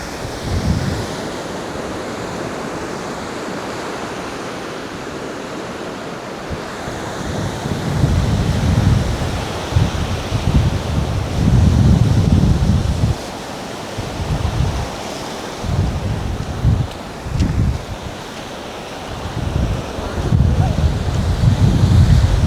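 Waves break on the beach at Costa Mujeres in Cancun, Mexico, as repeated surging washes over steady wind rumble buffeting the microphone, loud and near, with rolling swells every few seconds.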